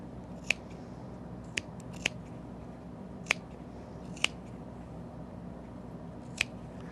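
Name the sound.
scissors clipping fabric seams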